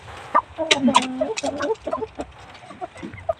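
A hen clucks before laying an egg, with close, irregular clucks and a few drawn-out calls, while people talk quietly nearby.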